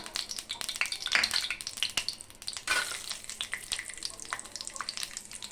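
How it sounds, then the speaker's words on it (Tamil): Cashews frying in hot ghee for Ashoka halwa, a steady crackling sizzle with scattered sharp pops and stirring scrapes, close and fairly quiet, with no talking. "முந்திரி பொன்னிறமாக வறுக்கணும் பாருங்க"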